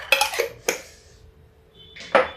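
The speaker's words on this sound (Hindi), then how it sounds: "ये देखिए, इसको हम ढक देते हैं, ढक के इधर रख देते हैं।" A metal lid clinks onto a pot of cooked arhar dal, a few sharp close clanks and a short ringing tone, then a final knock as the covered pot is set down.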